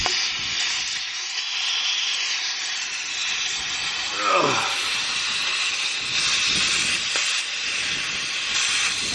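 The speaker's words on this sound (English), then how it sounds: "Got an air leak" A steady, loud hiss of an air leak on a Clean Sweep air compressor runs throughout, with a brief falling swoop midway.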